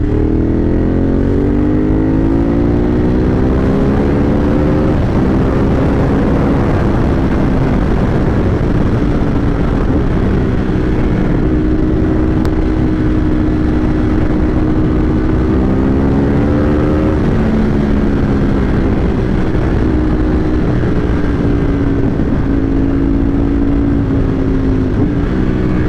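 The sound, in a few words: motorcycle downshifting and braking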